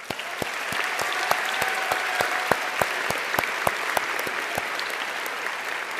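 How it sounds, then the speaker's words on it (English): A high school commencement audience applauding in a large hall, steady sustained clapping with distinct individual claps standing out throughout, no talking. "Now a round of applause."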